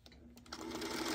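Sewing machine stitching quilt squares, a faint whirring run that starts after a couple of light clicks and builds steadily, heard alone.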